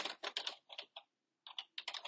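Quick bursts of keystrokes on a computer keyboard, close and fairly quiet, with a short pause in the middle before typing resumes.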